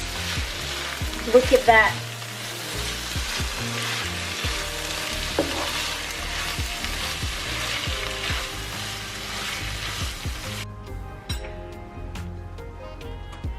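Rice mixture with shredded chili chicken and kaffir lime being stirred and tossed in a hot pan at a rice festival, a steady sizzle with scraping, clinking spoon strokes throughout and a brief spoken remark near the start.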